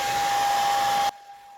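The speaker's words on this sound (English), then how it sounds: "now I'm going to use my hair dryer" A hair dryer blows steadily and loudly on paper laid on glass to push watercolor pigment, a constant broadband whoosh with a fixed whine that cuts off abruptly near the end, leaving faint room quiet.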